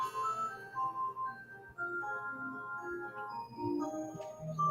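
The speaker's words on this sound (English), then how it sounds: "all my clocks are going off." Several clocks chiming eight o'clock together in a home, overlapping bell-like tones ringing and fading at a moderate, fairly quiet level over soft ticking.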